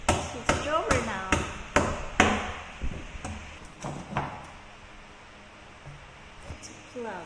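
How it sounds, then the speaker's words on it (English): Hammering a plug into an IKEA chest of drawers during assembly: about seven sharp, loud, close knocks in quick succession over four seconds, then quieter handling noises. "It's a plug, and you need to hammer that."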